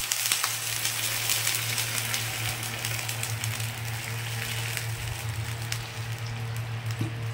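Broad steady sizzle of water hitting a hot pan of mango chutney, a continuous crackling hiss with a low hum underneath, close and even throughout with no talk.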